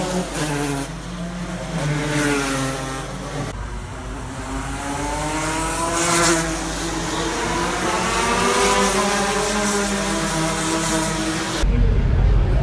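Go-karts racing at the Greymouth motorcycle street race, engines buzzing and rising in pitch as they pass and accelerate, loud and continuous with abrupt cuts between shots.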